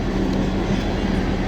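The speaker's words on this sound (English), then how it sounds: "Welcome to a coal train. Rolling through the beautiful downtown of Forsyth, Montana." A loaded coal train rolls through downtown Forsyth, Montana as a steady, loud low rumble and rattle of railcars with no breaks or voices.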